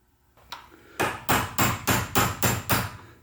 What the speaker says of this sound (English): you do indeed have a pin punch like this to get out the pins properly and knock them out without ruining them